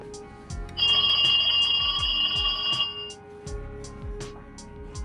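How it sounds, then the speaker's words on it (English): A telephone rings with a steady electronic trill for a couple of seconds, while soft rhythmic tapping and clicking continue underneath. "Phone is ringing."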